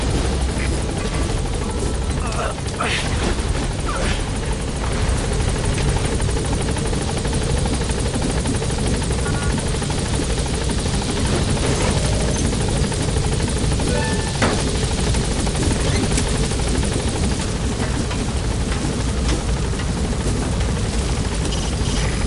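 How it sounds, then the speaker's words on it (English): A military helicopter hovers in the video game Metal Gear Solid V, its steady rotor thrum and engine roar filling the scene loudly and continuously with no letup. "The chopper's waiting."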